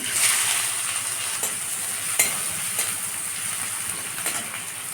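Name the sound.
frying chopped onions in a pan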